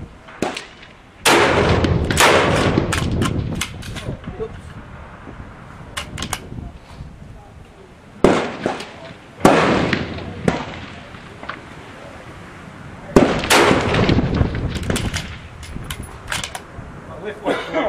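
Handgun shots fired at pink falling plate steel targets on a shooting range, sharp reports in bursts with gaps between strings, close and loud, with people talking in between.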